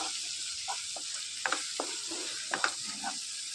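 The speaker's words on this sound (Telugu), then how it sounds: "కొద్దిగా కరివేపాకు వేసుకొని వేయించుకోవాలి." Sliced onion, green chillies and curry leaves frying in oil in a pan, a steady close sizzle with light scattered clinks and stirring taps.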